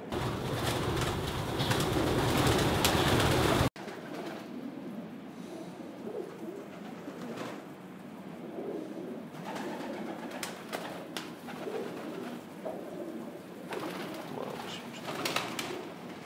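Racing pigeons coo after a bath in a loft, soft repeated calls at moderate distance, with a loud noisy burst at the start and occasional wing flaps.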